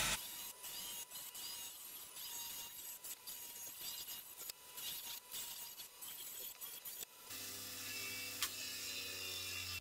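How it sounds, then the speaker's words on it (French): A wire brush, likely on a spinning machine, scrubs around a rusty motorcycle wheel rim from a PW80. It gives close, gritty scraping and rubbing with small metallic clinks, and after about seven seconds it changes to a steadier motor hum as the machine winds down. "je passe un coup de brosse tout autour du cerclage"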